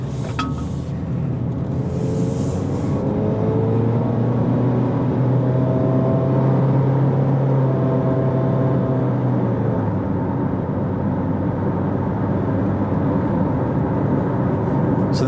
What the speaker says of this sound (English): you can hear the engine kind of rev because of the CVT is holding that higher RPMs to get you going